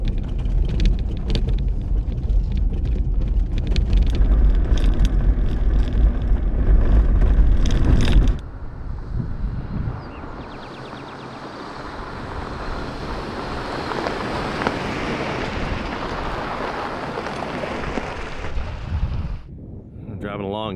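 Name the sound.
overland vehicle driving through desert with wind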